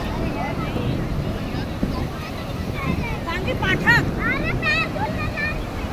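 Rough sea surf at Shivrajpur beach, with waves around ten feet high and a strong current, churns in a continuous wash while someone talks over it.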